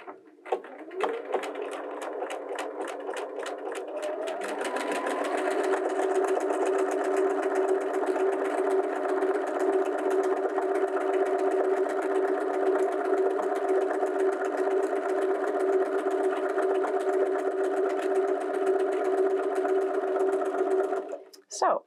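A Bernina 325/335 sewing machine stitches letters in a rapid, continuous motorized hum with fast needle chatter, running steadily and close for about fifteen seconds after a few slower starting stitches, then stopping.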